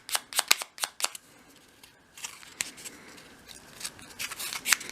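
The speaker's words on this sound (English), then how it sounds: "So just sweep the sandpaper over the edge." Hand-sanding the edge of a small wooden piece with 180 grit sandpaper for a 1/12 scale shop project, a series of quick close scratchy strokes, several sharp ones at first and then softer, more continuous rubbing.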